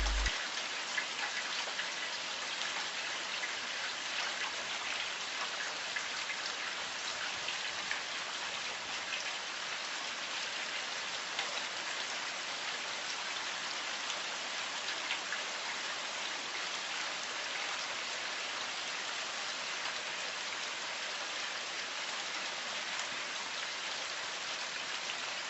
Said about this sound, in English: She lifted her arms up and made it rain.